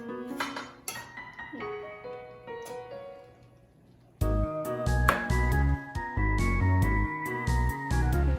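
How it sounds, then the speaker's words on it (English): Cooked Bombay biryani being stirred in a metal pot, first with a few sparse clinks, then a busy run of loud scraping and clanking of a spoon against the pot. "now we have to mix everything together"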